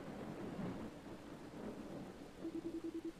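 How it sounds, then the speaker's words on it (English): Rain falls steadily in the video game Dragon Quest 7 with a low, rolling rumble of thunder beneath it. Faint, even storm ambience, with a few soft tonal game blips toward the end. "The great rain is falling again."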